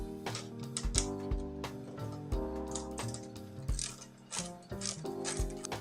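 A ratchet wrench tightens a 10mm nut on the damper shaft of an Engwe M20 electric bike fork, giving quick rapid clicking strokes in irregular bursts, close and clear with a metallic ringing edge.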